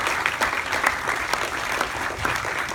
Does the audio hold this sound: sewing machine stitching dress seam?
no